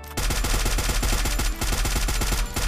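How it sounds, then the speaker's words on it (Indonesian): Headshot gunfire in a mobile shooter game, a dense, loud stream of rapid shots fired in quick succession for nearly three seconds with only a brief dip partway through. "Wah, headshot bunyinya udah beda guys."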